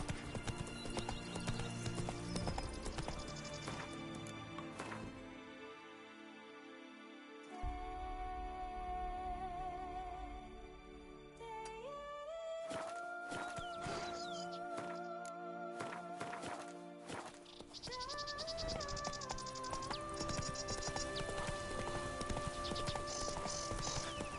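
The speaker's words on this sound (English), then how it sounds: "Run, Roach." Roach, Geralt's horse in The Witcher 3, clops along in a steady hoofbeat rhythm beneath loud orchestral game music, with a whinny among the hooves.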